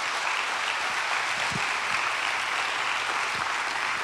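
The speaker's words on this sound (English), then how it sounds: "Give the Lord a great big praise clap." A church congregation gives a steady, even round of praise clapping, a soft continuous patter of many hands heard from a distance with no voices over it.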